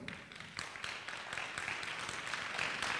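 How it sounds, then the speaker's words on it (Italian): Audience at an Italian talk on comic book coloring gives a warm round of applause, a quiet, even patter of many hands clapping that swells slightly toward the end. "Quindi vi chiedo un grande applauso per Giovanna Niro."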